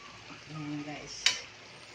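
Food sizzling in a hot pan as it is stirred, a steady fry with a faint voice underneath and one sharp utensil scrape or clink near the end.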